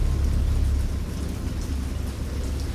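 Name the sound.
great storm with rain and thunder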